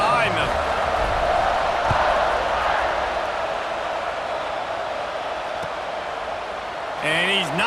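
A stadium crowd at a Clemson versus Notre Dame football kickoff keeps up a steady, distant roar of cheering, with an announcer talking over it throughout.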